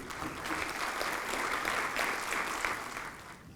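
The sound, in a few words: applause at university convocation ceremony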